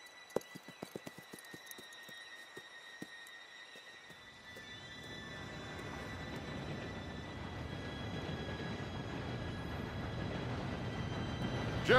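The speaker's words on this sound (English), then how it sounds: "Train should be here any minute now." A train in the Red Dead Redemption 2 game approaches with a thin squeal and scattered clicks, then a low rumble that builds steadily and grows louder toward the end; no speech.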